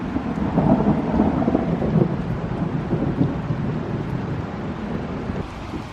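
Deep, rolling thunder rumbles from an approaching thunderstorm during a heatwave, heard from a narrowboat, swelling and fading over several seconds with some wind buffeting the microphone and no voices.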